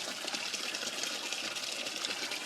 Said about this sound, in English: So water comes down, fills that one up, gets to a certain level